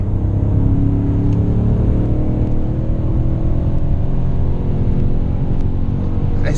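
A BMW M5 E39 engine pulls hard under acceleration from inside the car, a steady loud low rumble with layered engine harmonics and road noise that holds throughout without a break.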